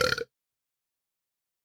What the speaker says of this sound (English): Just burping right into the mic?